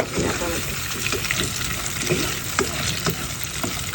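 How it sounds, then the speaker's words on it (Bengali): Potatoes frying in a pan give a continuous close sizzle with intermittent stirring scrapes and clicks, steady and fairly loud throughout. "এখন আলু দিয়ে টমেটোটা আর একটু পরে দেবো আলুগুলো ফ্রাই হলে"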